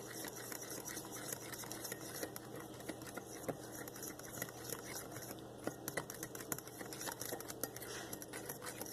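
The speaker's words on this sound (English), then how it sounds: "Be sure to stir well" A spoon scrapes and swishes through a banana, honey and turmeric face mask in a bowl, making soft, continuous stirring patter that stays faint and close.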